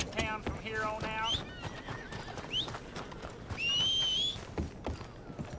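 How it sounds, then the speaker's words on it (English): Horse in the video game Red Dead Redemption 2 whinnying loudly several times with clip-clopping hooves, plus a whistle call, while people speak over parts of it. "No, let's just call the horse."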